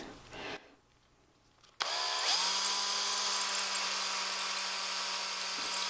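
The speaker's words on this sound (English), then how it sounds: "and then drill a hole in through there" A power drill bores a hole into driftwood, whining steadily at a close, loud level after a brief start-up, with handling noise before it.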